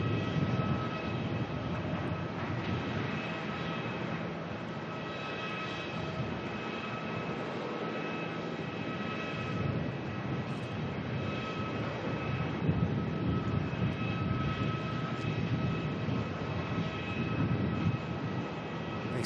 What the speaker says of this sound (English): Arrival coming in on runway 34. Qantas 760 from Perth.